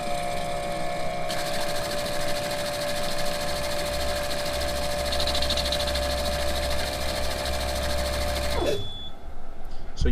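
Fuel injectors on an injector dyno rapidly firing during a prime test make a dense, steady buzzing clatter with a constant tonal hum, running continuously until it cuts off abruptly near the end.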